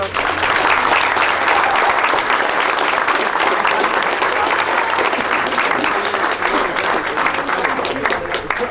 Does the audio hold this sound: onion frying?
no